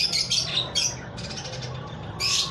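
A budgie under beak treatment gives sharp, close chirps and squawks in short bursts, with a brief pause mid-way before another loud burst at the end.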